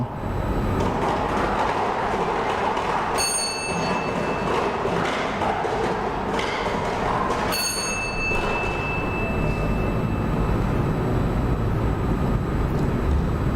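A lottery number-drawing machine spins at a Lao lottery draw, a loud continuous rumbling rattle with two brief bright ringing tones partway through.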